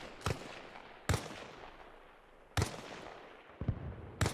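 Four sharp gunshots in Arma Reforger spaced about a second apart, each with a rolling echo, fairly distant and moderate in volume, with no talking.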